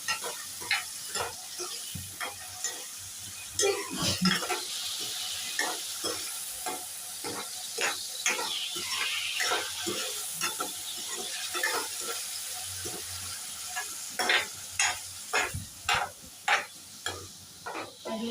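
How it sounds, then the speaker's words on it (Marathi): Prawns sizzle in hot oil in a pan while being stirred, with repeated scraping strokes of the spatula against the pan over a steady frying hiss, near and moderately loud, no speech. "मी दोन मिनिटं तेलातून परतून घेते"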